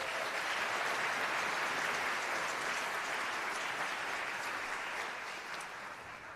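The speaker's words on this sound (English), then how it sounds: "give Mr. Schwartz a round of applause." Steady, dense applause from a large audience at a band concert finale, holding evenly for several seconds before gradually tapering off.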